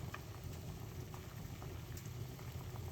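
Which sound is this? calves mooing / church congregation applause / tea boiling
tea boiling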